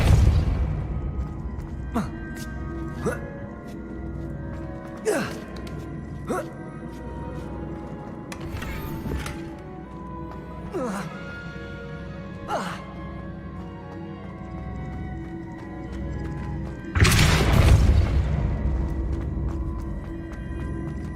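A Depulso spell blast fires in the video game Hogwarts Legacy among sharp, scattered in-game impacts, ending in a louder, broad burst near the end; a voice speaks briefly.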